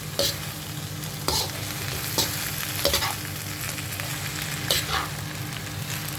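Spring onion leaves stirred and frying in a pan, with a steady sizzle broken by several sharp scraping stirs, close up and with no talking.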